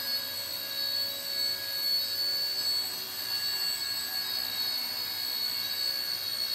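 A home-built Black Hornet micro UAV drone hovers at about half throttle, giving a steady, close, high-pitched motor whine with layered tonal hum that holds even for the whole stretch.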